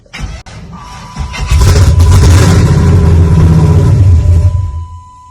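A 5.3 LS V8 swapped into an S10 truck, fitted with a Gen 4 truck intake and standalone harness, cranks and catches, then runs roughly with a loud, uneven rumbling roar for a few seconds before dying away.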